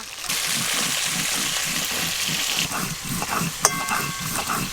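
Catfish frying in oil makes a loud, continuous sizzle with rhythmic bubbling pulses, then a sharp clink near the end as the frying carries on.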